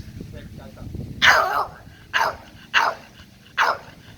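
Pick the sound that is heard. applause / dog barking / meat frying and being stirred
dog barking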